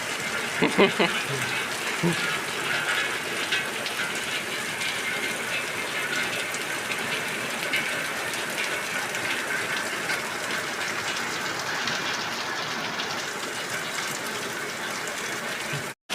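Dense, continuous rushing water pours without pause for the whole stretch, loud and even.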